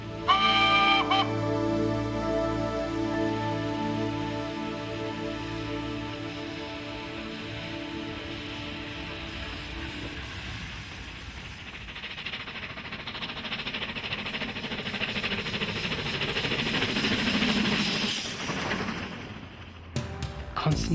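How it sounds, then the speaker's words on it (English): A steam locomotive whistle blasts loudly at first, then fades as the train chuffs and rumbles away on the line to Avontuur, the sound swelling again near the end. "The train departs and the whistle sounds joyfully."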